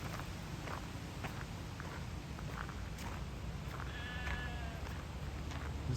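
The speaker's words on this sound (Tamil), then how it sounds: "செம்மறி ஆடுகள் எல்லாம் அங்கே மேய்ஞ்சு கொண்டிருக்கு." Sheep on a large farm in a Swiss village, with faint distant bleats over a constant outdoor ambience and brief rustling movement.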